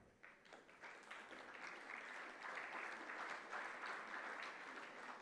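An audience at a gala dinner applauds, a dense, sustained clapping that swells after a hesitant start and holds steady, heard from within the room.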